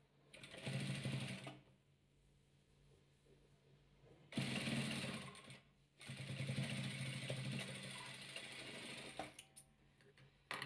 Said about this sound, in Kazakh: Енді біз бұлай көкті тігеміз